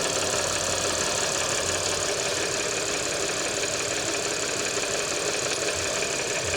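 A Porsche Macan engine idles with a steady, dense mechanical hum and faint ticking, close and continuous throughout, with no voices.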